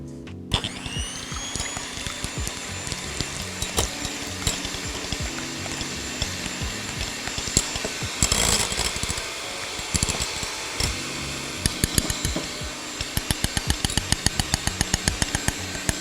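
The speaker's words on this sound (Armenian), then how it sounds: "Ես հիմա միացնում եմ հարիճը, աղմուկի համար ներող կլինեք" An electric mixer beats pancake batter, a loud steady whirring drone that runs the whole time, with rattling, clicking beaters near the end.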